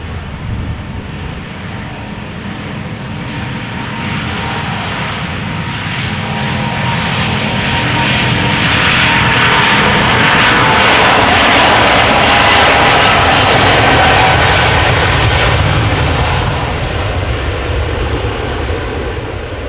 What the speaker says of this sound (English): 777-200 ER, she is 19 years old. First flight October 2003.